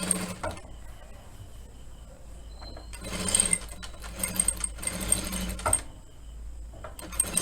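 A sewing machine stitches a blouse: bursts of rapid mechanical whirring and clatter broken by short pauses, close and fairly quiet.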